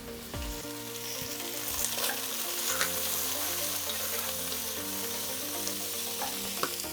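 Beef bones sizzling in a pan while being stirred, a continuous close frying hiss with occasional scrapes and knocks from stirring, steady and moderately quiet, with no talking.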